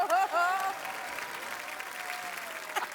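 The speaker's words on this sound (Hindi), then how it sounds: "ओए तालियां भी" A studio audience at a comedy show breaks into applause under a raised voice and laughter, and the clapping carries on steadily for a few seconds.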